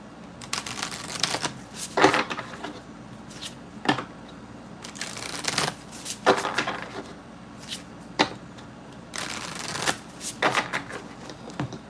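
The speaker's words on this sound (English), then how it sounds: "All right, shuffling" A deck of cards is shuffled for a reading in repeated bursts of crisp riffling and flicking, close and fairly loud, with short pauses between rounds and no speech.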